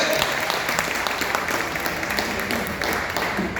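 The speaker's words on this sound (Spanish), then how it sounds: "Vamos a brindarle fuerte el aplauso." A church congregation claps in sustained, fairly loud applause that runs through the entire short stretch, with a dense even patter of many hands.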